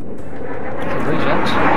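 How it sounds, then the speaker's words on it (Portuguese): Two jet aircraft in Arma 3 on Stratis roar overhead as a broad, steady rumble that swells toward the end, with a voice talking over it. "Dois jatos."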